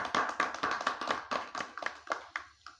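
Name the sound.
audience clapping to welcome a guest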